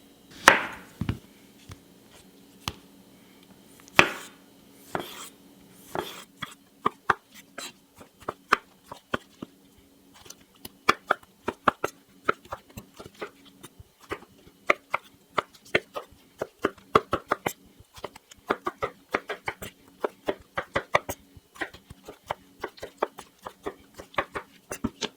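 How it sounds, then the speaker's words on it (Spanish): Tomatoes being chopped with a knife on a board for calabacitas a la Mexicana, a few slow separate cuts at first, then a fast irregular run of crisp close taps that continues throughout. "Primer paso, picar los jitomates."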